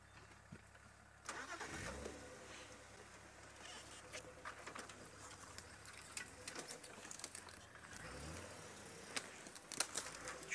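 A small safari vehicle's engine starts with a low rumble, then runs at a steady idle and moves off over rough ground, with some rustling and faint patter around it and no talk.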